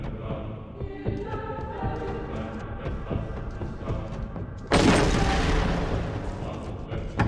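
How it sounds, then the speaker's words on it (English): A loud explosion goes off in the stealth video game Hitman: Blood Money, a sudden broadband blast that cuts over the game's music and ambience and then decays through the final seconds. "the explosion will blow through the wood and kill him"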